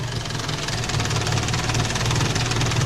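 A turbocharged Datsun wagon engine idles steadily after a restart with a low, rhythmic rumble and faint knocking, loud and close, running evenly without revving.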